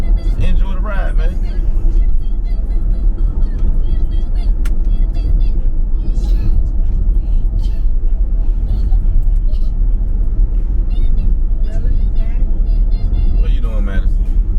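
A steady low engine rumble and road drone fill the cabin of a moving car, constant and fairly loud throughout, with voices of people talking over it.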